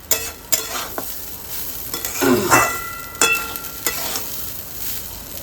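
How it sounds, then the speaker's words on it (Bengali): Sliced onions fry and are stirred in a hot kadai wok, a steady sizzle with scraping spatula strokes and occasional clinks of metal against the pan, close by and without talk. "পেঁয়াজটাই এই কড়াই দিয়ে দিয়েছি এবার একটু ভালো করে ভাজা ভাজা করে নিই"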